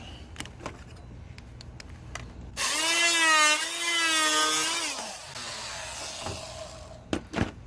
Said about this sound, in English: now we're gonna trim this extra lip right here